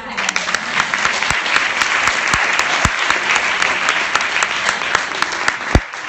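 A crowd at a community event in New York City claps loudly and continuously, with a few sharp, distinct claps cutting through the dense, sustained applause.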